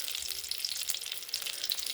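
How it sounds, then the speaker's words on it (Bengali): Pointed gourd (potol) frying in oil with salt and turmeric, a close, steady crackling sizzle with small pops, alone without talk. "পটলটাও একটু নুন আর হলুদ দিয়ে এটা ভেজে নেব।"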